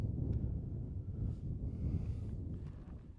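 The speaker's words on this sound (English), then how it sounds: "It's very windy. Sorry about the wind." Gusty outdoor wind buffets the microphone in open country, a steady low rumble that swells and eases for a few seconds with no voices.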